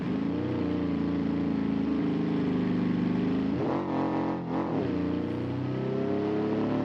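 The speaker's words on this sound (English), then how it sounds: "Very loud car." A loud car engine in the BeamNG video game roars steadily with a rising whine, briefly dropping and surging twice as it shifts and revs again, no talk.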